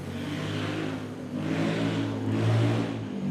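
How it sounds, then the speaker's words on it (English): A motorcycle passing on a street in the Philippines, its steady mid-pitched engine drone swelling slightly and lingering for a few seconds, fairly close, with no voices over it. "Waiting for the motorcycle noise to pass by."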